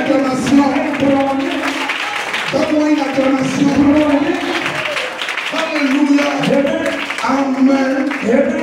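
A church congregation answers a sermon with clapping and loud vocal acclamation, voices rising and falling in waves as the crowd responds together.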